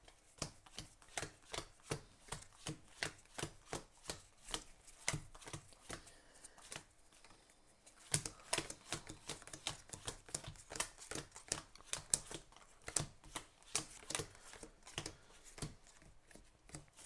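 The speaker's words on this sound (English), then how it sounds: "if you want to shuffle that deck too" A deck of Pandemic board game cards is shuffled again and again in a steady, rapid patter of crisp paper flicks. The sound is close and continuous, with short pauses between passes.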